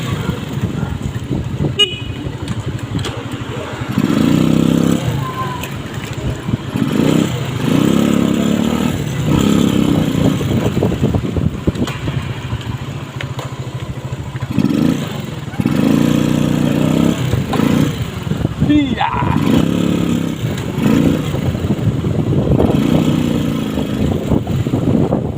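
A motorcycle engine rumbles steadily while riding, with passing traffic and a couple of horn toots, and a voice talking intermittently over the road noise.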